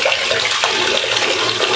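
Jasper stone held under a running tap, a steady broadband rush of flowing water splashing continuously at close range with no talking.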